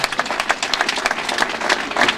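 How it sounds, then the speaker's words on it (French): Audience applauding at a political morning gathering, a brisk dense patter of many hands clapping steadily with a few louder claps, fairly close and continuous. "je vous demande encore d'applaudir très fort pour notre presse"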